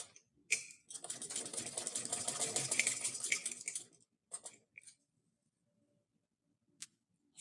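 Sewing machine stitching lace onto a trouser bottom: a close, steady run of fast stitching lasting about three seconds, then a few short mechanical clicks and taps before quiet.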